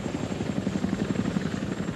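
Military Cobra attack helicopters at a base near the Kuwaiti border, their rotors beating in a loud, steady rapid chop with a constant engine whine throughout.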